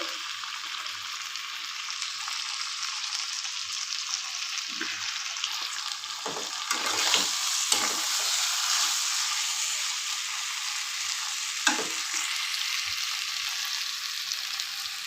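Mutton fries in oil in a pan with a steady, close sizzle that continues throughout, broken by a few faint scraping stirs in the middle.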